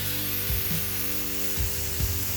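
Steady hissing sizzle of burger patties frying on a hot griddle with oil, continuous and close, with a low hum and a few soft knocks underneath.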